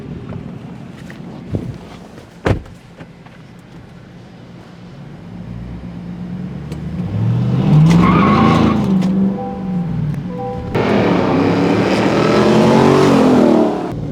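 A 2023 Chevy Silverado High Country with a Whipple-supercharged 6.2-liter V8 driving, its engine rising and falling through loud revving pulls with a whining tone, then surging hard again near the end.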